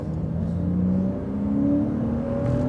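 A 2001 Porsche 986 Boxster with a flat-six engine driving gently, a smooth steady engine hum with slowly rising tone, moderately close and alone.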